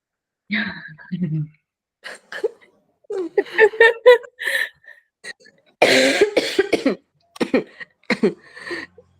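Several sharp coughs and throat clearings close to the mic, scattered in bursts with short pauses between.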